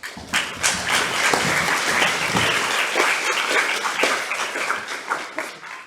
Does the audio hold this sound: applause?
yes